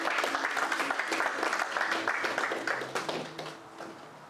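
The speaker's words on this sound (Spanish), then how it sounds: "Dale otro aplauso." A church congregation gives a round of applause, steady clapping from many hands that fills the room and tapers toward the end, with some faint talk underneath.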